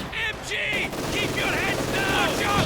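Machine gun fire rattles through a battle in Company of Heroes 2, with bursts of crackling shots over a dense, busy din. High whistling and whining tones recur throughout, and a voice may be faintly present underneath.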